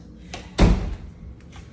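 A house's basement door swings with a single solid thunk near the middle, close by and fairly loud, followed by a short fading rattle and faint handling noises.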